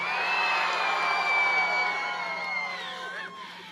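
A large outdoor political rally crowd in Kinston, North Carolina, cheering and whooping for the Vice President, a loud sustained roar with shrill yells that slowly fades toward the end.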